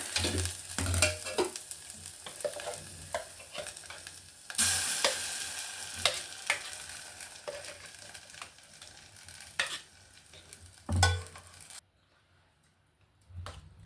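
Mixed leafy greens are stirred into a hot tempering in a pan for a pepper saaru, with irregular scraping, clacks and sizzling bursts up close. The sound drops to near quiet in the final seconds, and no one speaks.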